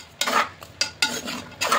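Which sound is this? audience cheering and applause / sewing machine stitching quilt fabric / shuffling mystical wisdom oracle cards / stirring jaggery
stirring jaggery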